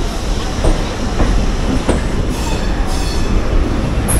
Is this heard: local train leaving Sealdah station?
yes